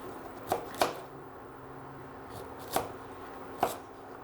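A knife chopping vegetables on a cutting board, four distinct chops, two close together at the start and two spaced later, each a crisp thud over quiet background.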